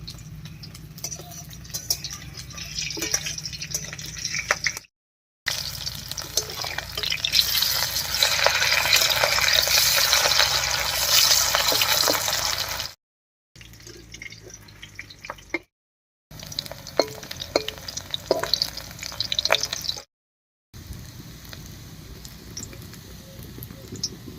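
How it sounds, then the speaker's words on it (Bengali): Spiny gourd (kakrol) slices shallow-frying in a little oil hiss and sputter steadily for long stretches, broken by brief gaps and small clinks of stirring nearby. "আমি একটু এরকম হালকা তেলে ভাজছি আপনারা তাহলে ডুবো তেলেও ভাজতে পারেন"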